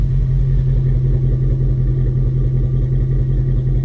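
A 2002 Jeep Grand Cherokee 4.7 V8 with a misfire and melting coil problem runs in a shop, a steady loud low rumble that pulses unevenly throughout, with no talk over it.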